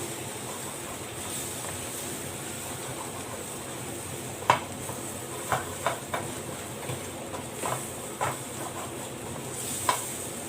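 Vegetables scrambled in a hot pan for vegetable rice, a low continuous sizzle under a handful of sharp spatula clicks and scrapes against the pan, spaced irregularly, moderately close.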